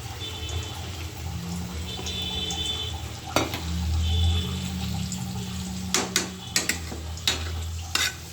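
Meat is stir-fried kosha-style in a pan, with a continuous sizzle and stirring, a few sharp utensil clanks against the pan, and a steady background hum.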